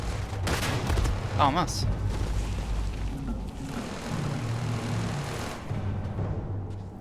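A grenade blast in the video game Starfield: a loud, booming burst of game explosions and gunfire that rumbles on under a man's brief spoken reaction.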